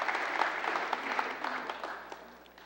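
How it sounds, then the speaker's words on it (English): A church congregation claps together, a short burst of applause filling the sanctuary for two young boys, fading away within a couple of seconds. "Can everybody clap for Owen and Jack?"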